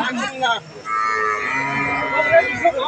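A large Holstein Friesian dairy cow at a cattle market lows in a long, drawn-out moo, with a short call just before it, against a background of market bustle.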